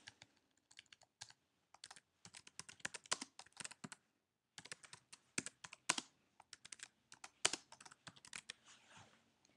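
Someone types a name on a computer keyboard: quick close clusters of crisp key clicks in irregular bursts, with a short pause midway and no talking.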